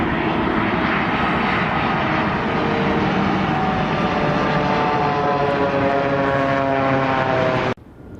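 A loud, steady propeller-like whir from the ram air turbine of an approaching Boeing 787, droning continuously before cutting off abruptly near the end.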